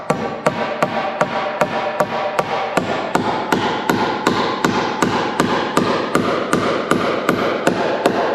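Steady, rhythmic hammer blows driving penny nails into wooden bracing for overhead door hangers in a post-frame building, about two strikes per second, close and loud with sharp impacts and no talking.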